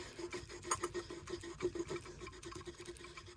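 A woodcarving tool such as a knife or gouge is drawn by hand over a leather strop loaded with compound, giving soft, steady rubbing strokes in a quick rhythm, faint and close, with no voices.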